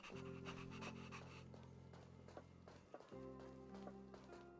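A puppy pants in quick, rhythmic breaths in the video game Honkai: Star Rail, heard softly over steady ambient game music.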